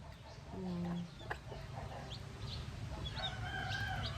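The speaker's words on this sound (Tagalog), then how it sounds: "Marunong din siya magtawag ng kanyang sisi para patukain." Hen clucking to call her chicks to peck at food, short soft clucks and a few higher calls over faint farmyard background, fairly quiet and brief.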